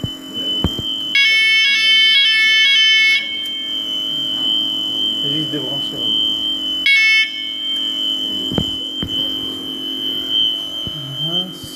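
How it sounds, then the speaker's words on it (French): A loud electronic parking-level alarm siren from a Finsecur system blares in two pulsing bursts, cutting off between them, with someone speaking briefly and clicks nearby. "Sirène au niveau parking."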